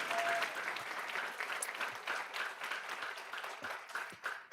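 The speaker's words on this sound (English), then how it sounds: "So if you would give her a round of applause," A school board meeting audience claps for the academic team coordinator with moderate, steady applause from a modest-sized room, individual claps audible within the wash, fading slightly at the end.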